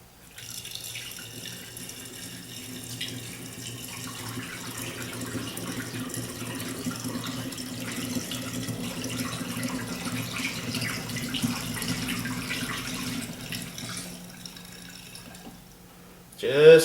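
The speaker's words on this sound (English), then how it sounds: "now I'm going to add my first installment of juice" Fruit juice poured through a wet funnel into a container for cranberry mango wine, a steady liquid pouring and trickling sound running nearly continuously at moderate level before stopping near the end.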